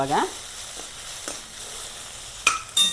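Tamarind and coriander fry in a pan, a faint steady sizzle with a few sharp scraping stirs near the end, close by and with no voices.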